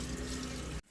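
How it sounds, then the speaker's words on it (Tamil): Water rushes into the drum of an LG washing machine, a loud, close, steady gush that stops abruptly after under a second. "இங்கே தண்ணி வந்துகிட்டே இருக்கு பாருங்கள். தண்ணி வந்து ஃபில் பண்ணுதா இதுக்குள்ளே தெரியுதா?"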